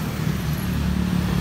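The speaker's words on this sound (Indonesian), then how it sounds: "Arah ke kota Solo macet." Road traffic in a jam on the way to the city of Solo, a steady near rumble of car and vehicle engines with low droning hum throughout, no talk.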